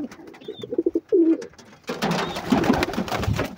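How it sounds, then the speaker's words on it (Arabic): Pigeons coo in a loft, with soft low burbling calls that come close and clear at first, then a denser wash of cooing and fluttering noise from the flock. "وده بعض الحمام اهوت"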